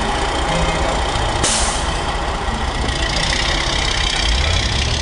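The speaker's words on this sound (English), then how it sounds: "tanker trucks fill up with water at water pumping stations" A tanker truck at a water pumping station idles with a heavy, steady diesel drone, and a sharp air-brake hiss bursts out early on, up close and with no talking.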